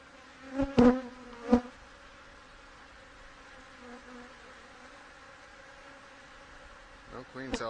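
Angry honey bees from a hive of brood and fresh grubs buzz in a steady droning swarm, with a few louder bees passing close near the start and again at the end.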